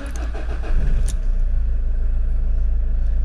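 A Renault Kangoo engine cranks and catches, then settles into a steady, loud idle rumble heard up close with no voices.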